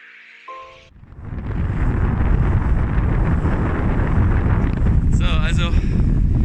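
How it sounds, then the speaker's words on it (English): Loud, steady wind roars across the microphone for most of the clip, buffeting continuously, with a brief whistling tone near the end, during a canoe trip in the Yukon. "Das ist doch etwas sehr windig."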